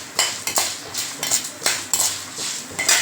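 Red chillies and tamarind being dry-roasted in a pan are stirred with a metal spoon, which gives a steady run of sharp scrapes and clinks against the pan, close up and with no talk.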